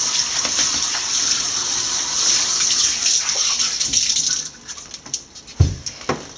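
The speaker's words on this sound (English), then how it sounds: "And once again, Cassie will rinse." Running water rinses a cat during a grooming session, a steady close gushing spray that stops partway through, followed by a few drips and splashes.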